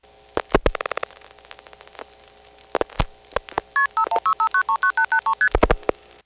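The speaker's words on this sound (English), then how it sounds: "we'll dial a 1 on the originating switching train" An old step-by-step switching train in a 1977 telephone exchange takes a dialed call: sharp mechanical clicks and relay bursts, then a rapid run of evenly spaced touch-tone beeps, followed by more clattering switch pulses, with a faint steady tone underneath.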